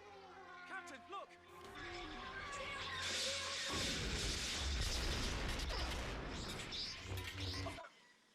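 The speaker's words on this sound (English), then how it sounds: "Those are some practical effects right there in that explosion." A film explosion made with practical effects in Star Wars Episode I builds into a long roaring blast with crashing debris, loud and sustained, after a voice speaks briefly in the film's dialogue.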